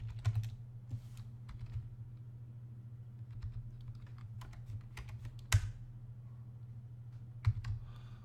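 Quiet keystrokes on a computer keyboard as networking CLI commands are entered, irregular clicks and a few sharper key presses over a steady low electrical hum.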